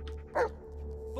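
A dog gives a single short bark in the middle of a steady low electrical hum, fairly close but not loud, with faint background noise and no talk.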